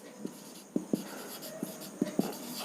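Chalk or marker writing on a board during a chemistry lesson on acids, heard as a series of short, crisp taps and scratchy strokes at irregular intervals, close and fairly quiet with no speech.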